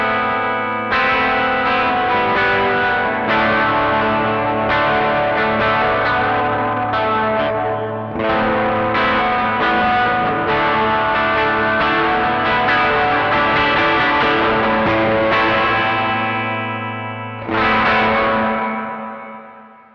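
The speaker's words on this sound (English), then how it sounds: "I think basically it's kind of a hall reverb to my ears" An electric guitar plays through the hall reverb of a Caline CP80 Ragnarok delay and reverb pedal with the mix set very wet. Sustained chords wash out into long, lush tails, and the last chord fades away at the end.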